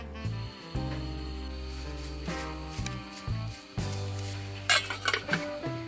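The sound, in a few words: mashing boiled potatoes in a pot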